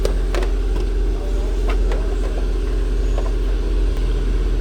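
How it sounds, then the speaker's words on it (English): An Acura MDX engine idles just after being started, a steady low rumble close by with a few sharp clicks and knocks in the first couple of seconds, with no talk. "start the car, let it run for a minute"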